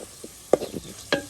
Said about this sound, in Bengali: মসুরের ডাল কিন্তু দিয়ে দিলাম আমি